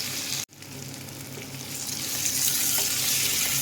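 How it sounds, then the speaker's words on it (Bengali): Capsicum and onion with chopped garlic frying in a hot pan for chilli chicken, a steady close sizzle that begins after a brief cut and slowly grows louder, with no talking. "এভাবে কেটে নিয়ে এটাকে ভেজে নেব"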